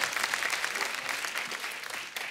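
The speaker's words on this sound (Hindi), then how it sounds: "एक बार बादशाह और सोनाक्षी के लिए जोरदार तालियां हो जाए।" Studio audience applause on The Kapil Sharma Show, a TV comedy program, as a dense, steady wash of many hands clapping, loud and sustained for a couple of seconds with no talk over it.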